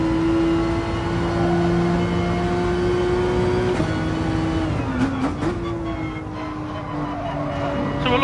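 Porsche race car engine from Gran Turismo Sport, a steady loud drone under cornering, with pitch dips and shifts midway as the car brakes and accelerates again.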